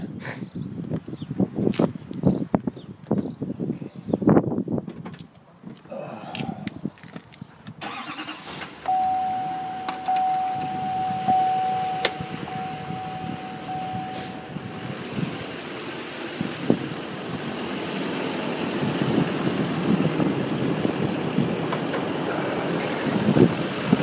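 A 2011 Chevrolet Silverado 3500 HD 4x4 pickup's Duramax diesel cranks over after some handling noises, then settles into a steady, fairly loud idle that continues to the end, with a faint high whine in the background.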